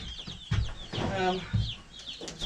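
Chickens clucking and squawking close by on a farm, with repeated low throaty clucks and higher calls over steady background chatter from the flock.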